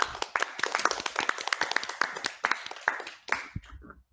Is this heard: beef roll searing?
no